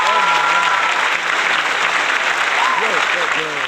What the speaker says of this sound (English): The clapping is too long.